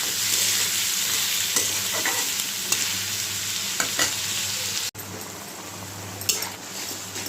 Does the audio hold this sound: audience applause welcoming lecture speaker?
no